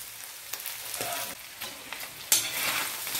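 Mushrooms sizzle and crackle in a hot pan, with occasional scraping stirs and a louder burst of frying partway through.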